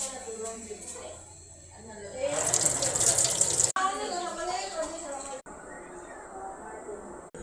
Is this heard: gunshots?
no